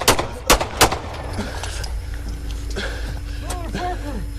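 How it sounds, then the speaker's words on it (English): Police gunshots ring out in three sharp, loud cracks within the first second, followed by shouting voices and commotion at an arrest of a suspect in a stolen car. "shots fired"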